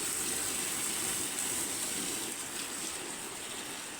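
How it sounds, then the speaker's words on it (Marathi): Rainwater running out through a drain at a house, a steady, soft gushing flow heard alone, fairly faint and even throughout. "इथून सगळं पाणी जाते बाहेर पावसाचं"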